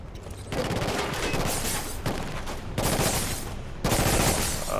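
Sustained automatic gunfire from Killzone Shadow Fall pours onto an enemy shield in long dense bursts, loud and close, with brief pauses between volleys and no talk over it.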